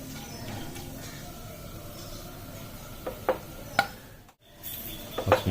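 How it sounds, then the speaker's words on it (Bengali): Whole spices go into lightly heated oil for a restaurant-style lemon chicken, giving a soft, steady sizzle with a few sharp clicks and scrapes of stirring. The sizzle briefly drops out near the end, then returns. "তো আমি এখানে যে গোটা মশলাগুলো আছে সেগুলো দিয়ে দিই"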